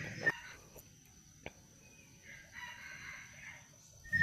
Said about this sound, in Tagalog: Pakinggan nyo po yung tilaok ng kanyang nahuli mga ka-hunter.